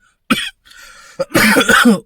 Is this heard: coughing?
yes